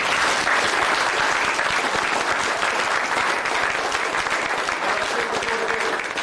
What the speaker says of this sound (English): So that in itself deserves another warm round of applause